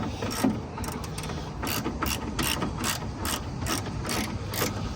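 Ratchet wrench tightening bolts during a 6-inch rear lift install on a Jeep XJ, a close, loud string of quick clicking strokes in regular bursts with brief pauses between them.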